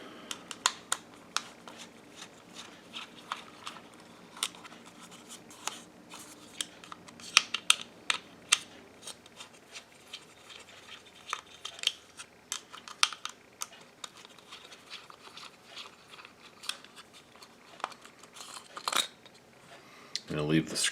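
Plastic halves of a Nooie 360 wireless camera being pried apart, a long run of small sharp clicks, snaps and creaks close by, sparse at first and denser later, with occasional talk mixed in.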